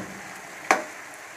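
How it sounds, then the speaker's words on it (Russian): Pepper is dumped into a hot frying pan for a Russian navy-style minced meat dish, giving one sudden loud sizzling burst that fades back into a steady, quiet background frying hiss. "Вывалили весь перец сюда в сковородку."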